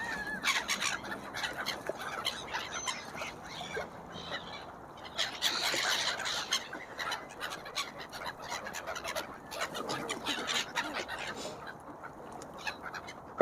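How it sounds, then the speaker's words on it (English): Birds and waterfowl at a lake in December, with a steady mix of calls and chirps scattered across the scene, moderately near, and no talking. "we have a look at some bird activity"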